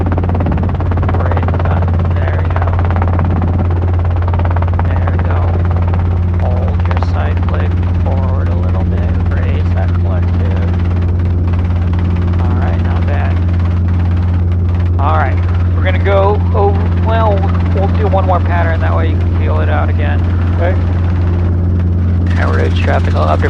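A Robinson R22 helicopter lifts off for a training flight, its rotor and engine droning in a steady, loud, close hum throughout while people talk over it.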